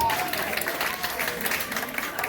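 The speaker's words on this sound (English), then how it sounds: "Give my sister a round of applause," An audience at a poetry show claps steadily in a dense, sustained wash of applause, with crowd noise and voices mixed in underneath.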